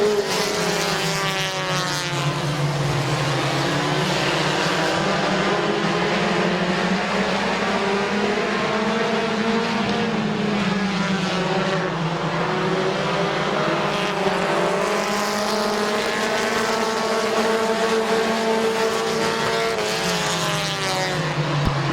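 Race cars at Midvale Speedway running in a close pack during a compact feature, their engines producing a loud, continuous roar that rises and falls in pitch as the field circles the track.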